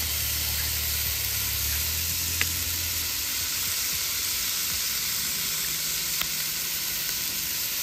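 Sausage meat fries in a pan at a campsite, giving a loud, constant sizzle and hiss with only a couple of faint ticks along the way.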